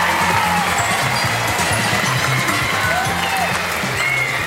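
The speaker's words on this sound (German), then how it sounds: "Okay, einmal einen Applaus für Luke" An audience at TeenStreet 2007 applauds Luke the guitarist, with dense, loud, continuous clapping throughout and a faint murmur of voices underneath.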